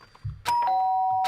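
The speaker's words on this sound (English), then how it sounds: "did I hear the doorbell?" A doorbell chime in the video game Danganronpa: Trigger Happy Havoc, two clear ringing tones sounding close and bright after a soft thump, with the second tone sustaining to the end.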